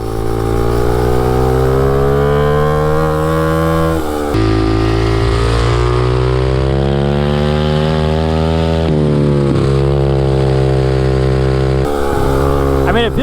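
Close and loud, a MotoVox minibike carrying a 200cc dirt bike engine revs hard, holding high pitch before dropping off and surging again in a few sharp throttle swells.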